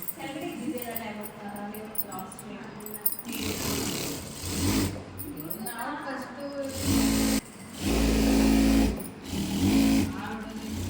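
A sewing machine stitches a pair of narrow pants, its motor whirring in bursts that rise and pause, loud and close, with a voice speaking over parts of the run.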